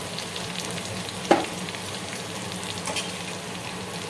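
Chana dal hits a pan of hot chilli and garlic tempering with a sudden sharp sizzle burst, then settles into a steady low frying hiss with a faint later flare-up; no one talks.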